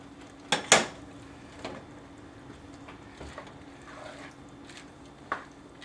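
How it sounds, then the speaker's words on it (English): Cooked rice going into jambalaya in a cast iron pot, with two sharp metal clanks of a spoon on the iron at the start, then soft scattered scrapes and one more light clink, close and fairly quiet. "I'm going to add the cooked rice"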